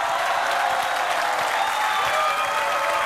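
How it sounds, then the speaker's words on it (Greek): An audience bursts into dense, sustained applause, a loud, even wash of many hands clapping at once with no pauses throughout. "Σταματάτε να χειροκροτάτε."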